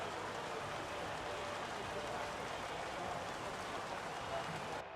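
Steady, even rain hiss during a race at Silverstone in the video game F1 23, a continuous wash of raindrops with no breaks until it cuts off abruptly at the end.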